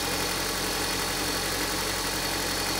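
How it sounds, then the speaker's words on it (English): Car engine idling with the hood up during alternator testing, a loud, steady, close rumble with a buzzing hum and no talk. "Obviously the engine's running."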